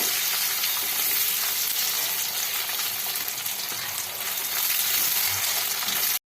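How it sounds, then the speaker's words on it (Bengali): Onion pieces sizzle steadily in a hot pan while chilli chicken is being cooked, with a continuous hiss and crackle that stays loud and even until it cuts off abruptly. "পেঁয়াজটাকেও আমি মিনিট খানিক ভেজে নেব"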